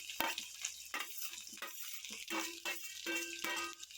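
Spices, kasuri methi, a bay leaf and curry leaves stirred in a frying pan: soft, quiet sizzling broken by repeated scraping strokes of a spoon at an uneven rhythm.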